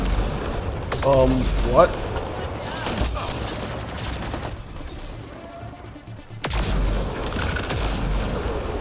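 Rifle fire crackles in Mass Effect: Andromeda, several loud, close shots and bursts scattered through a combat scene, with a voice speaking briefly amid the shooting.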